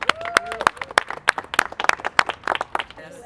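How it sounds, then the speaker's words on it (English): A small group of runners on a history-themed neighborhood run in Overtown claps in rhythm, a quick series of sharp, close hand claps with a few voices. "Let's clap it up for Overtown."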